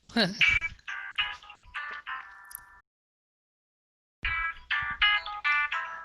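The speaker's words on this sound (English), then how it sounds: "And there's my phone, and I hate when that happens." Mobile phone ringtone plays in bursts of electronic chirping tones, stopping briefly and then resuming, with the speaker's voice in the room around it.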